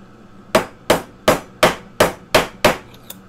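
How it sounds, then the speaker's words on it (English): Seven sharp metal-on-metal hammer strikes close up, bending the ends of a ring back together on a bench for soldering, landing in a steady rhythm about every third of a second, followed by one faint tap. "and then just hammer down the ends"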